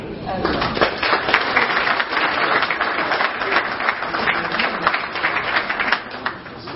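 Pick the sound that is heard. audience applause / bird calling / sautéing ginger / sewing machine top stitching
audience applause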